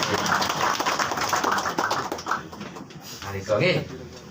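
An audience at a talk at Pura Cemenggon in Sukawati, Gianyar, breaks into quick, dense hand clapping, a close patter of sharp claps running throughout with voices talking over it.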